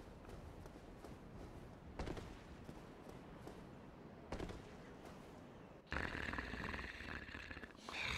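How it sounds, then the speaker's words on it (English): An NPC snores in the Dark Souls video game, slow repeated rasping breaths in a quiet game environment, followed by a louder burst of ambient game noise. "That NPC that you hear snoring"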